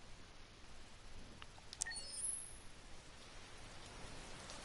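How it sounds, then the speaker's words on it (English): Rain falls in the video game Detroit: Become Human on a PS4 Pro, a faint steady hiss that runs throughout, with one brief sharp click partway. "Oh, it's raining here."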